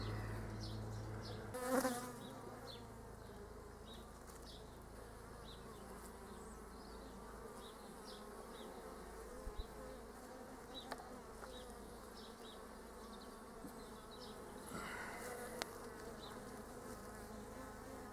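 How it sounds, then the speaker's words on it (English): Bees buzz steadily around hive frames in an open hive, a soft continuous drone with occasional insects passing close, plus faint handling knocks. "Some bees wandering about."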